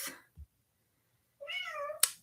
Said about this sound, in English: my cat meowing